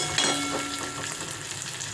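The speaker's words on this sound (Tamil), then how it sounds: "இப்போ வெங்காயம் நல்லா கொஞ்சம் கோல்டன் ப்ரௌன் கலரில் வதங்கட்டும்." Onions fry in a pan toward golden brown, giving a steady, close sizzle with occasional stirring scrapes and no talking.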